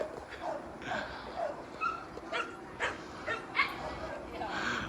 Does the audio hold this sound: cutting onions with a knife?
no